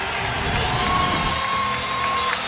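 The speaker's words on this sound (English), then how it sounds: "They're just applauding a 10-point lead" Basketball arena crowd applauding and cheering a 10-point lead, a dense, loud, steady roar of many voices and clapping filling the whole space.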